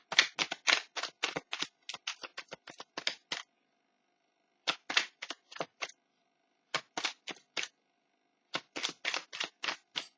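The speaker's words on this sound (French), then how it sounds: "je bats les cartes" Tarot cards are shuffled by hand in rapid bursts of crisp riffling snaps, close and clear in a quiet room, with short pauses between each run of shuffling.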